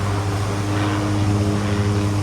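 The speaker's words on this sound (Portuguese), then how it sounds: "eu acho que é um avião militar" Military airplane passing overhead, a steady broad engine drone with a low propeller-like hum, loud and unbroken throughout with no talk.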